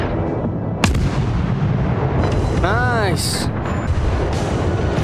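Naval gunfire in the World of Warships video game, with booming artillery shots and explosions over a continuous rumble of battle, a sharp blast near the start and whistling shells midway, while a player speaks briefly.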